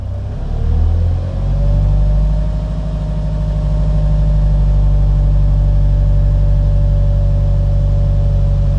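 A car engine during a beginner driving lesson on pedal technique, with the accelerator pressed again. It climbs in pitch over the first second or so, then holds a steady, close, loud drone with a deep rumble beneath, and no voices.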